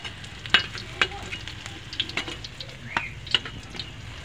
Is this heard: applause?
no